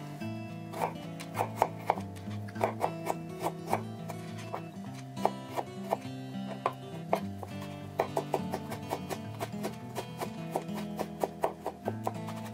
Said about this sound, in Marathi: सगळी गार्लीक ही बारीक कातोरया.